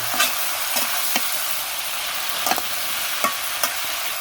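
Food frying and being stirred in a pan in a home kitchen, with a steady crackling sizzle broken by several short scraping clicks as the spatula moves through it.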